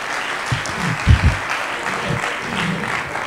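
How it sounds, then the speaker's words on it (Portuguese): Applause from the audience in an auditorium at the final of a public speaking competition, dense clapping with a few louder thumps and murmuring voices underneath. "Uma salva de palmas."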